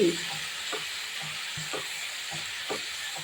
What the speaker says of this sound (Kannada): ಇದನ್ನೆಲ್ಲ ಫ್ರೈ ಮಾಡಿ